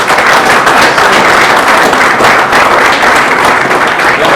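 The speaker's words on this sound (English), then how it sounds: "So let's give you another round of applause." An audience at a Cherry Pie Festival event gives a loud, dense round of applause, steady rapid clapping sustained without pause from start to finish.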